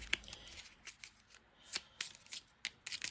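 Tarot cards are shuffled and drawn by hand in a quiet room, a series of soft, crisp card snaps and slides in an irregular rhythm, close and fairly faint.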